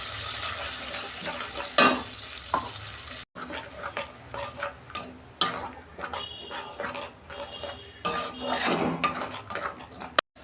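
A metal spoon scrapes and clatters against a pan while a mustard and poppy seed paste with tomato fries in oil, with soft sizzling and irregular knocks throughout.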